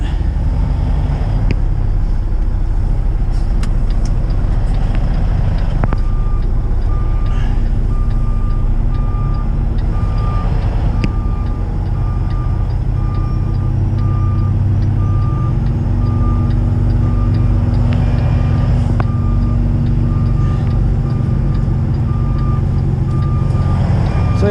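A semi truck parking beside a trailer sounds loud, evenly spaced reversing beeps over a heavy idling diesel rumble, with brief hisses and clunks early on and no talking.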